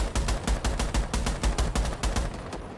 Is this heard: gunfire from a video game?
yes